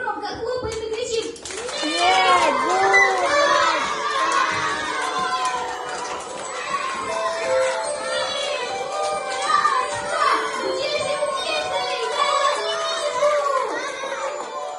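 A crowd of children at a New Year party clap and shout loudly together, calling for Snegurochka, excited voices overlapping in a dense, continuous din with applause underneath.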